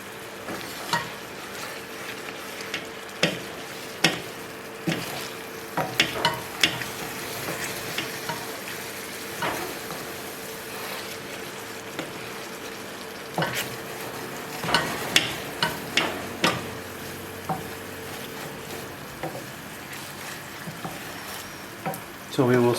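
Ossobuco frying in a pot for ossobuco alla milanese, with steady sizzling and repeated scraping stirs and clinks of a utensil against the pot throughout, fairly close, with a few brief spoken moments.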